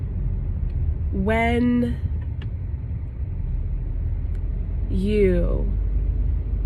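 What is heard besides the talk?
road traffic noise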